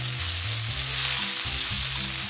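Onions fry in a pan with a loud, steady sizzle, while a constant crackling hiss runs unbroken with a low hum beneath and no one speaking.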